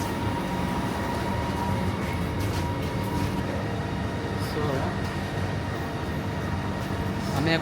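Inside a moving metro train in Kuala Lumpur, a steady rumbling roar of wheels and motors fills the carriage, with a constant hum that stays fairly loud throughout.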